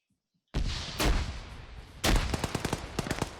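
In the video game ArmA 3, a grenade explodes with a sharp, loud blast after a moment of silence. A second burst follows, then a rapid, close string of gunshots.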